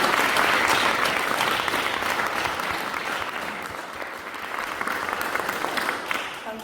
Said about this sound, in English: I'd like to ask for a round of applause for HereNI and the work that they've done.